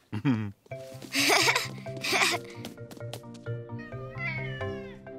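A cat meows repeatedly, several drawn-out, tonal cries with short gaps between them, close and clear and heard on its own within a children's cartoon.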